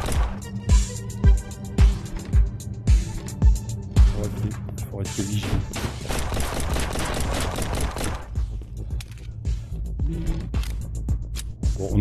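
Gunfire in the VR shooting game Shotwood: a run of evenly spaced, punchy shots, then dense rapid bursts of fire, loud and close, with no talking.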